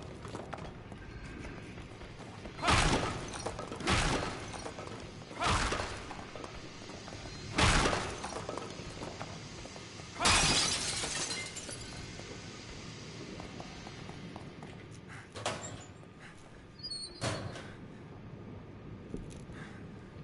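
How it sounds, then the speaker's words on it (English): Glass crashing in the horror video game The Evil Within as a window is smashed, a series of sharp, loud breaking impacts spread across the scene, some fainter hits later, over a low ambient background. "I smashed the window,"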